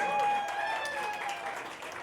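An audience applauds at a Bollywood song launch event, a brief burst of crowd clapping mixed with a sustained musical tone, fading slightly toward the end.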